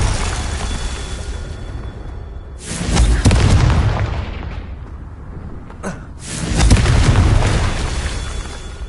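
Confringo spell explosions in Hogwarts Legacy, two loud booming blasts a few seconds apart, each a sudden heavy burst with a rumbling decay, standing alone without speech.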